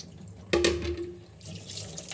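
Kitchen tap water splashes onto dirty plates left to soak in a sink, a sudden close gush that settles into a steady running stream, with no talking.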